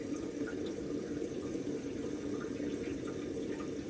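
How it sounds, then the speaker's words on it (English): Water runs steadily from a hose into the cooling pipe of a rebuilt Detroit Diesel 8V92TA engine, a faint continuous rushing fill with no breaks and no talk over it. "So that's filling everything with water here."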